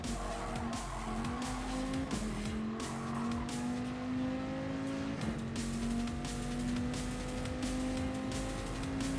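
A racing car in Gran Turismo Sport skids with squealing tires, and a steady engine drone runs throughout, close and loud, with no talking.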